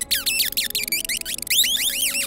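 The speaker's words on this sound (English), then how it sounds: "You will also encounter rats." Rats in an audio game for the blind, heard as quick bursts of high, chirping squeaks that sweep up and down in pitch, repeating in busy clusters.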